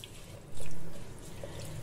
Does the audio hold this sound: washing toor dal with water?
yes